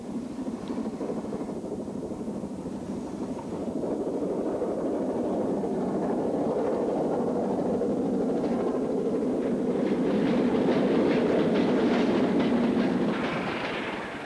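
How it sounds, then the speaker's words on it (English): A 9F steam locomotive hauls an evening freight train heading north, a steady, continuous rumble that swells and stays loud toward the end before easing off, with no voices. "A 9F heads north on an evening freight."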